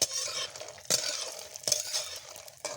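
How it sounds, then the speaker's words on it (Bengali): Lentil and ash gourd bori frying in mustard oil in a pan, a steady sizzle broken by a few sharp scraping stirs of the utensil, close and moderately loud. "সরিষার তেল দিয়ে ভাজা করে নেব।"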